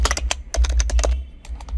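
Keys clatter on a computer keyboard in a quick, close run of crisp clicks with short gaps, and no one speaks.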